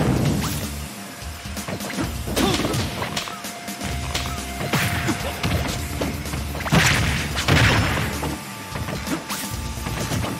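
Explosive smashes and thuds from a Super Smash Bros match at a tournament, several sharp bursts hitting in quick succession over busy game effects, loud and close.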